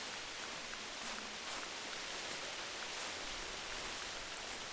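Soft, steady hiss of rain falling outdoors in high country, an even wash of faint patter with scattered drops, quiet and uninterrupted, no voices.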